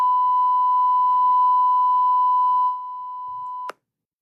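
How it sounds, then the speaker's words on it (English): Censor beep played from a phone speaker, one steady continuous tone lasting almost three seconds, loud and alone, then quiet before a sharp click cuts off. "I'm going to pull up on my phone that beeping noise"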